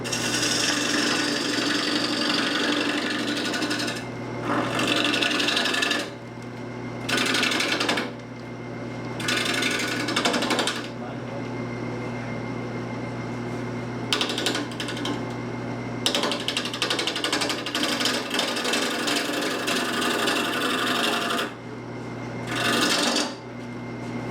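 A wood lathe turns a wooden teapot, with a steady motor hum and a whirring, scraping tool cut that repeatedly stops and restarts in bursts.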